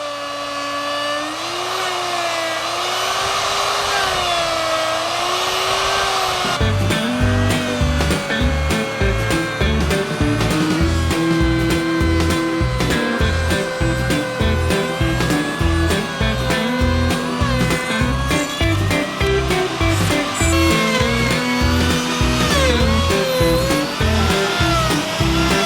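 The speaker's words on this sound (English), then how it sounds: "Tried the router on the other window." A power router cuts a window opening into a log wall of a log home, its high motor whine running loud and steady with rhythmic pulsing bursts as the bit bites into the wood.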